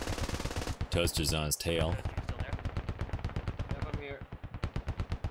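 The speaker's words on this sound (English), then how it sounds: "firing that HMG" A heavy machine gun fires in a video game battle, loud rapid bursts of evenly spaced shots that carry through most of the stretch, with a voice talking over the gunfire partway through.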